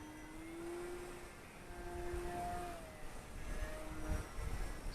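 Fun Cub 1100mm EPO RC plane with a RacerStar BR2212 1400kv motor at full power, a faint distant propeller whine that rises and falls in pitch as it passes overhead, over outdoor background noise.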